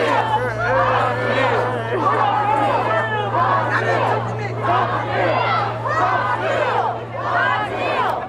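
A large protest crowd chants and shouts in rhythmic waves, loud and close, with a steady low hum running underneath and cars passing by.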